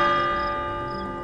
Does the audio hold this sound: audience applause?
no